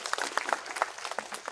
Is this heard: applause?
yes